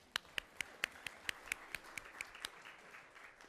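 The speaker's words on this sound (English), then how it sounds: "Yes, we can clap for them too." About a dozen sharp, evenly spaced claps from a small audience at a school district governing board meeting, applauding a student group, fading out after a couple of seconds over quiet room tone.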